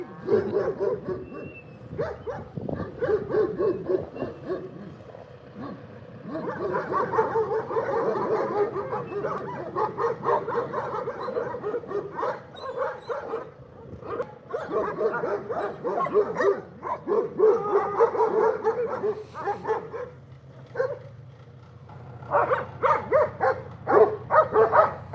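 A group of disabled dogs bark repeatedly and energetically, mixed with yips and whimpers, a noisy, continuous chorus at close to moderate distance.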